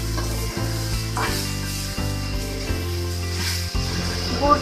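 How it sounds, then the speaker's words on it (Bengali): Grated coconut and sugar being stirred in a hot pan for puli pitha filling, a continuous soft sizzle with scraping stir strokes, close and steady, no voices. "নেড়ে দিচ্ছি"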